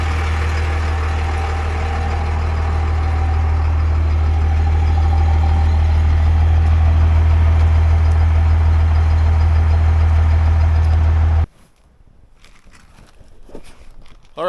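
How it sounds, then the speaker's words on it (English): A 12-valve diesel truck engine idling, a loud steady low rumble with even pulsing that runs for most of the stretch before cutting off abruptly, leaving faint rustling and quiet movement. "pretty hard to beat the purr of a 12 valve"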